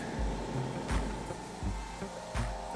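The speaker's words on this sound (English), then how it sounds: "That is a California Air compressor." A California Air compressor runs close by with a low mechanical drone that pulses in a regular cycle of thumps about every three-quarters of a second, with no one talking.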